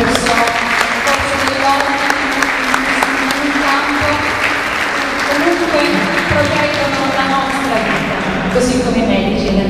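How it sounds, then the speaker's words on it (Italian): Audience applause at a final evening of an arts and music event in September 2012, a dense sustained wash of clapping filling the whole stretch, with voices and crowd noise mixed in underneath. "Quindi voglio fare anche un applauso per questa categoria di persone."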